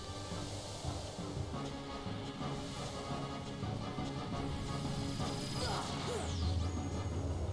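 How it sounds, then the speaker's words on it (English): An enemy smashing the ground in the video game Kingdom Hearts, a dense, continuous rumble of game crashes and impacts mixed with background music throughout. "He smashes the ground."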